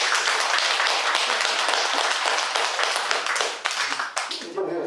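A Buddhist Dharma-talk congregation claps together in a dense, loud burst that holds steady for several seconds before tapering into scattered claps near the end.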